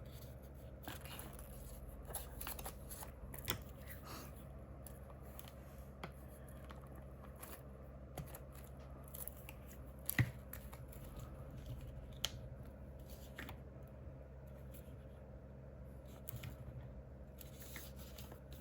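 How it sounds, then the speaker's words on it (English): Scissors snip through envelopes and paper scraps while a folio is made, a steady run of close, crisp cuts with faint rustling and occasional sharper snips, no voices. "I'm going to cut it a little bit like this"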